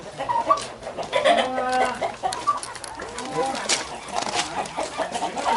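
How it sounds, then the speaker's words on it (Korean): Excited farm chickens cluck and squawk in a busy, overlapping chorus close by, mixed with a few turkey-like calls, while people chat over them outdoors on a mountain morning. "이야 뭐 닭들이 희한하다."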